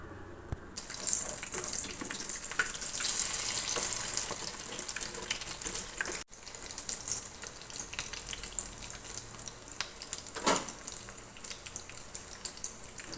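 Masala bonda deep frying in oil over a medium flame, a continuous bubbling sizzle with brief clinks and a short watery rush partway through, close and fairly loud, no talking.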